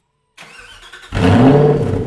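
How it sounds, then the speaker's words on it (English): A modified 2006 Ford GT with an aftermarket exhaust fires up: a brief starter whir, then the engine catches with a loud, deep, rumbling roar that settles into a rough, throaty idle close by. "This particular car is fitted with an aftermarket exhaust. And, well, I'll let it speak for itself."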